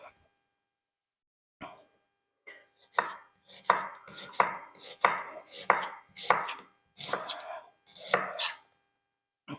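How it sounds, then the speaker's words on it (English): A knife finely slices an onion for chicken fajitas on a cutting board in quick bursts of crisp, close chopping strokes, after a few isolated taps and a brief quiet start. "I'm going to use one onion, which again I'm going to slice finely"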